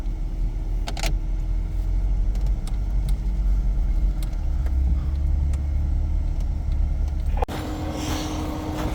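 A Mitsubishi Pajero off-roader crawls over rocks on a mountain track toward Khevsureti, giving a low steady engine rumble with scattered knocks and creaks, then a sharp clunk near the end.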